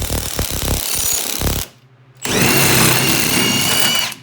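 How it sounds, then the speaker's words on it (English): Power tool working a seized fastener on a Honda Civic EK, a close rattling hammering burst, a short pause, then a second longer steady buzzing run that stops abruptly. "With the right wrench on the back side of things, this fastener shouldn't give us too much trouble."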